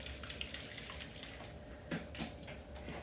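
Water is sprayed onto hair during a beveled-under haircut: faint, airy hissing bursts, with two slightly stronger spritzes near the end, all quiet and close.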